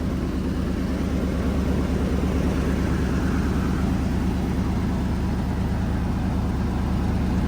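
A steady, rumbling old truck engine with a rusted-out exhaust runs continuously with a low, throbbing idle, close by and without any pauses or voices.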